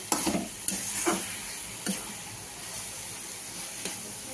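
Red amaranth greens fry in oil with a soft continuous sizzle, broken by a few sharp scraping knocks from stirring in the pan.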